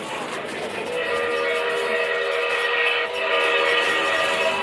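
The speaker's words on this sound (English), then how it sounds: "Here comes our train, Joker." A train passes close by with a loud, steady rumble and hiss of rail noise that fills the whole stretch, with a high whistle-like tone in it.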